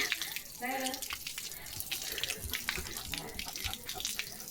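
Water runs steadily from a tap while Leo plays in it during a night-time Dhulivandan, a close splashing gush with voices talking over it.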